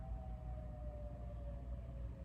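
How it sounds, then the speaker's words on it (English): A distant fire department siren, like an air raid siren, holds a steady, slowly falling wail over low rumbling background noise. "It sounds like a air raid siren, but I think it's for the fire department."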